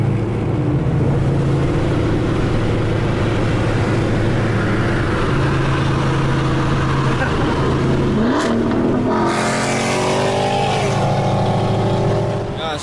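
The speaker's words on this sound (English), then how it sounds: "when he rev it, that's when you hear it" A car engine rumbles steadily up close with low tonal hum, then revs rise around the middle and end, sweeping upward; people talk over it at a gas station.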